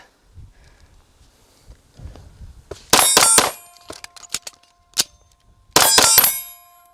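Reload of a Flux Raider backpack gun: a burst of sharp metallic clanks and clicks as the slide lock is worked, a few lighter ticks and a single ding, then another loud clattering burst, all close and with no talking.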